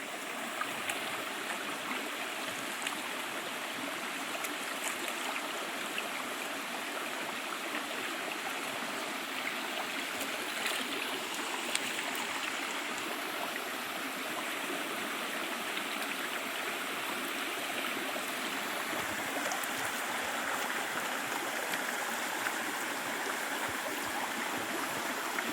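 A river near a home in the Konkan countryside flows steadily, a broad, continuous rush and gurgle of moving water heard up close with no talking, holding an even level throughout.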